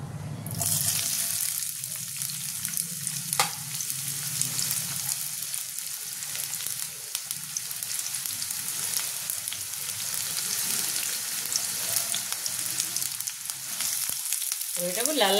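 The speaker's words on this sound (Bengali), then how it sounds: "এবার আমি পেঁয়াজগুলো ছেড়ে দেবো।" Sliced onions fry in hot white oil for beresta, a loud, close and steady sizzle that flares sharply at the start when they hit the pan, then holds as a dense hiss throughout.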